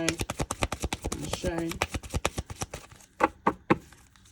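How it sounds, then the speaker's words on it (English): Tarot cards being shuffled by hand, a fast run of crisp riffling flicks that slows into a few separate soft slaps near the end, close and fairly quiet, with no talking. "one more shuffle"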